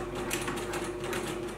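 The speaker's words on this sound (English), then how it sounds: "So then we're gonna take it over to the sewing machine" A sewing machine running steadily as it stitches fabric along a marked line, a close, continuous mechanical hum with a fast rhythmic clatter and no pauses.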